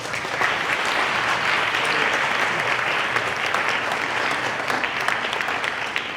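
Live audience in Toronto applauding steadily and loudly, a dense, continuous clatter of many hands clapping with no pauses.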